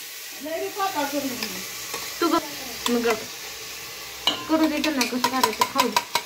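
Masala paste frying in oil with roasted onion and coconut for a crab feast, a steady sizzle broken by stirring scrapes, with people talking over it throughout.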